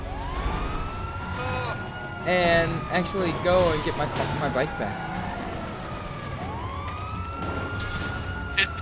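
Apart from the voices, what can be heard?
police car siren in video game GTA V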